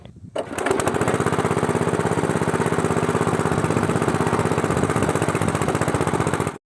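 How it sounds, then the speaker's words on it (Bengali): Petrol-engine water pump machine starts and then runs loud and close with a fast, even chugging throb that continues steadily until it cuts off at the end. "তো গাইস মেশিন স্টার্ট করে দেখো জল বেরিয়ে গেছে"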